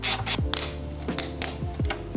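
A 5mm hex tool ratchets out the brake hose holder bolt on a Yamaha R1 front brake, several quick clicking strokes close up with short pauses between them, no talking.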